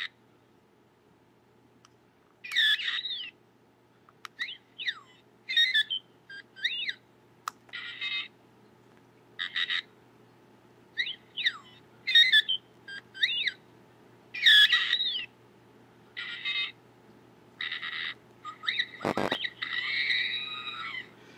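An R2-D2 action figure on a tri-mount gives a string of electronic beeps, chirps and warbles in short separate bursts, fairly close, with one longer burble near the end and no talking.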